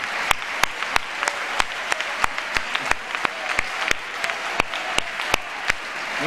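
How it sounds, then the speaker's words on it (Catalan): Audience applause at a Coalició Compromís political rally, a steady dense patter of many hands with a few sharper claps standing out, moderately distant and sustained throughout. "aplaudiu per aquesta parella, aplaudiu per aquest cant a l'amor en un lloc polític"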